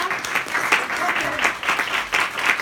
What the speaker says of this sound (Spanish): un aplauso grande para la doctora Verónica